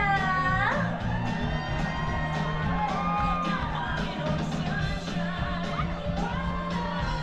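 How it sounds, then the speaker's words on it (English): A cruise ship crowd at embarkation in Norfolk, Virginia, greets the crew director with whoops, shouts and cheering, loud and continuous with high voiced yells rising over a dense crowd roar and music. "Give a huge round of applause and welcome your crew director is Michaela"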